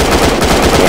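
Belt-fed automatic gun firing in a video game, a loud, dense burst of rapid shots with no pause.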